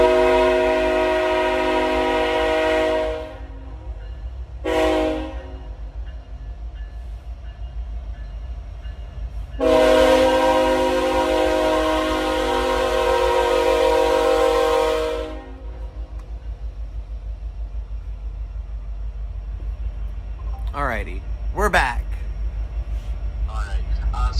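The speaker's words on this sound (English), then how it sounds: "Fucking train." A train passes nearby, a loud steady rumble and broad rush that cuts in and out in long blocks, with scattered faint clatter afterward; no clear horn stands out.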